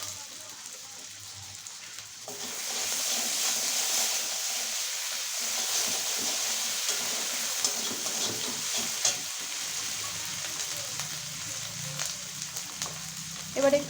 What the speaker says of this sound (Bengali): পেঁয়াজটা লাল লাল করে ভাজা হয়ে গেছে, এবার আমি এর মধ্যে দেবো আদা জিরে আর মরিচ বাটা।